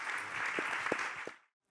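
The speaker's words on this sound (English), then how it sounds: "Applause for our panel." Conference audience applauding a panel at a housing event: a short burst of steady clapping with a few thuds, ending abruptly into silence after about a second and a half.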